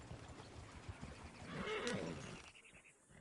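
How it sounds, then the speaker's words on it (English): A horse whinnies once, close and fairly loud, its rising then falling neigh rising over a quiet rustling background before the sound drops away. "Oh, shit, the horses! Damn horses!"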